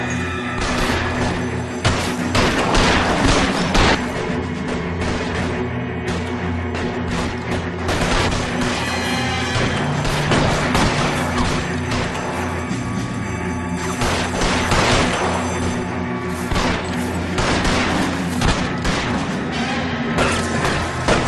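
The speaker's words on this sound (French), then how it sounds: "Oh là là, encore une fusillade." A gang-war gunfight in the video game L.A. Noire on Switch: a dense, continuous barrage of shots and booms runs for the full stretch, loud and unbroken, layered over a steady musical drone.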